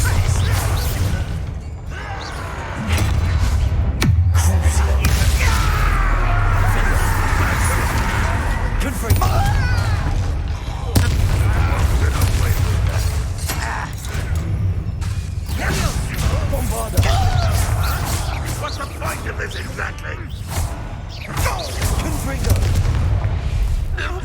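Bombarda explosion spells go off in the Hogwarts Legacy video game, with repeated heavy booms and crashes over a rumbling combat soundscape while a character talks.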